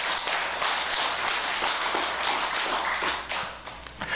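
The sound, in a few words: audience clapping at a Buddhist dharma talk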